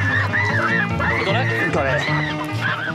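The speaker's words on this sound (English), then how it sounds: "I will get me a goose" A live goose being caught for a Christmas meal gives nasal honking calls mixed with a person talking nearby, loud and close throughout.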